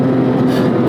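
A 2004 Porsche 911 GT3 (996.2) engine revs hard toward 8,000 RPM, a loud, close, sustained mechanical roar holding steady over a very short burst with no voices.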